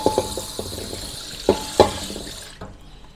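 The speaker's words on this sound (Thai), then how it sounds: "โอเคจะล้างเทลงไปนะครับเอาน้ำเปล่าล้างออกให้หมดนะครับ" Plain water sloshing and running in a sink as something is rinsed and poured out: a steady close trickle broken by a few splashes and knocks, stopping abruptly near the end.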